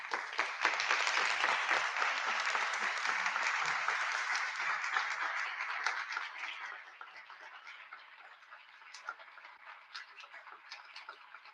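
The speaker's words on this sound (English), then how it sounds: "Please stand up and give them warm applause." Standing audience applauds as the judges leave the hall at the Churchill Cup opening ceremony, a dense, loud clatter of many hands that thins and fades after about six seconds into scattered claps.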